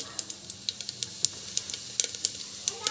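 Mustard seeds and cumin crackle in hot oil, a fast irregular run of sharp pops and spits over a low sizzle, close and fairly loud with no talk.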